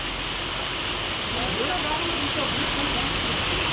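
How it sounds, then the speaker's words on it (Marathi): Steady rain hisses continuously, a dense even wash of noise with no breaks. "या ठिकाणी जोरदार पावसाला सुरुवात झालेली आहे"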